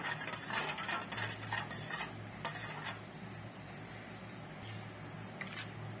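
A spoon stirs sugar into watermelon juice in a vessel, giving steady clinking and scraping with a busy swirling texture that stays fairly close and even throughout.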